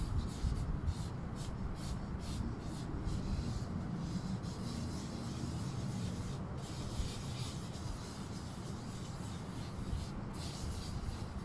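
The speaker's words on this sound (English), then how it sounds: "I really like the sound of the chalk." Chalk dabbed onto paper and tissue paper during a bullet-journal setup makes a steady, close, soft rubbing and scratching texture, continuous and even throughout with no voices.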